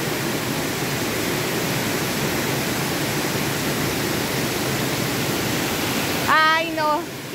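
Steady broadband rush of cascading water from a waterfall near Catemaco, Veracruz, continuous and close throughout, with a brief voice speaking over it near the end.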